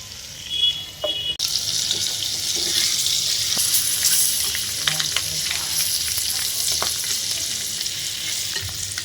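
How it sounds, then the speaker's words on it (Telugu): Eggs frying in a covered pan, a steady moderate sizzling hiss that starts abruptly after a brief muffled moment and continues evenly, with faint scattered pops and no talking. "ఎగ్స్ ఫ్రై అవుతున్నాయి."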